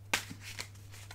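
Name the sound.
tarot cards being shuffled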